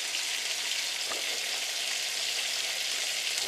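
Fatty pork pieces fry in a pan with a dense, steady sizzle that crackles continuously and close-up throughout, with no voices.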